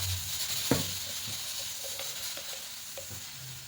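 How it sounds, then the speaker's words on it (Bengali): Ground spices (cumin, coriander, turmeric, Kashmiri chilli powder) fry and are stirred in a pan for a potato-and-pea curry, giving a steady close sizzle with a sharp scrape and scattered soft clinks of the spoon. "এখানে কিছু গুঁড়ো মশলা অ্যাড করবো, ঠিক এভাবে করে ফেটে নিতে হবে"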